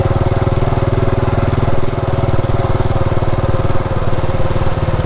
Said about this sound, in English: I got a motorcycle.